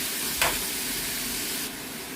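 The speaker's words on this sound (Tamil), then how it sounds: "இப்போ இதை நல்லா மிக்ஸ் பண்ணி விடுவேன். வெங்காயம் நல்லா வதங்கி வரட்டும்." Onions sautéing in a pan for a sundakkai thokku, a steady close sizzle and hiss with a brief stirring scrape early on, easing a little toward the end.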